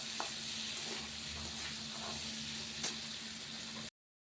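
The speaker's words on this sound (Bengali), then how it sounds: "কাঁচকলাটাকে ভেজে নিই আলুর সাথে" Green banana frying with potato in a pan makes a continuous close sizzle with occasional soft stirring clinks. The sound stops abruptly near the end.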